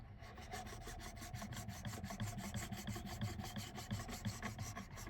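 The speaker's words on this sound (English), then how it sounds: "This is the white sharpening stone." Steel ice auger blade rubbed back and forth on a fine white ceramic sharpening stone, a steady rapid rasping of close strokes running continuously throughout, with no talk.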